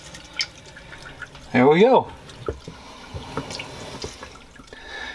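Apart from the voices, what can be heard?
water stream running from RV faucet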